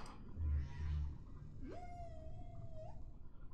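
A whale calls from the deep sea: a long, steady tonal moan rises sharply and then holds level for over a second, following a couple of low booming rumbles, heard alone without talk.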